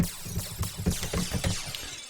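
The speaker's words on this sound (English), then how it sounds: "I wanted to check out this Glass Smash, actually" Glass smashing into a flurry of tinkling shards, with several sharp crashes and clinks tumbling over about two seconds.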